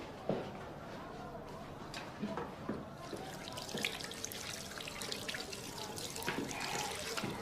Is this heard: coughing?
no